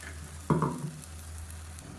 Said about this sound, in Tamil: இதையும் நல்லா எண்ணெய் பிரிஞ்சு வர அளவுக்கு வதக்கி விட்டுக்கலாம்